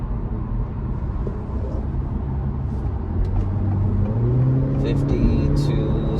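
A 2023 Acura Integra with a CVT accelerating hard from a standstill to 60, heard from inside the cabin as a steady engine drone that climbs smoothly in pitch over road rumble, with a few faint chimes near the end.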